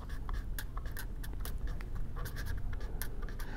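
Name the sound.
writing on a board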